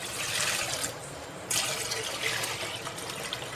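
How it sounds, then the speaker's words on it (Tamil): Water is poured into a cooking pot in a village kitchen, about two litres for a fruit jelly made with agar, a steady splashing gush that swells and eases, close by with no talk. "தேவையான அளவு தண்ணி ஊற்றிக்கலாம்"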